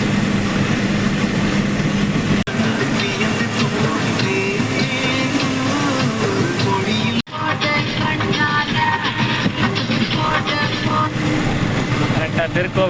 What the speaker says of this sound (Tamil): அடுத்து இப்போ தான் வண்டி எடுத்து கிளம்புறேன்.